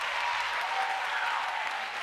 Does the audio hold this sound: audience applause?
yes